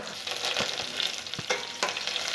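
Curry leaves sputter in hot tempering oil with chillies and seeds for pappu charu, a loud continuous sizzle broken by several close spatula knocks and stirring scrapes.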